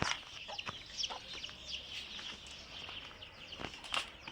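Chickens and roosters cluck and crow in a backyard coop, a steady busy chorus of mid-level calls with a few sharper, louder outbursts near the end, no talking.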